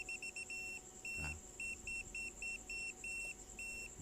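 A digital multitester beeps in short, regular electronic pulses while testing a GFCI outlet, a quiet steady string of bleeps with a brief thump partway through.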